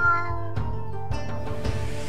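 A cat meows several times in quick succession, close and loud, with clear tonal cries rising and falling across about two seconds and no talk over it.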